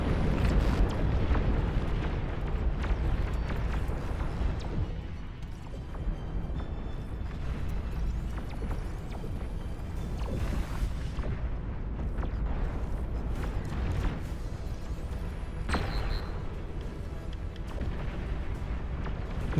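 Plasma cannons firing in the real-time strategy game Beyond All Reason, a dense barrage of deep booms and rumbling blasts rolling on continuously through a large battle.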